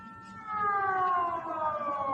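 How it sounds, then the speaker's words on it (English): Air-raid warning siren in Bahrain during a missile attack on U.S. bases, a steady wailing tone slowly falling in pitch, heard at a distance over a low rumbling background. "Sirens are going off right now."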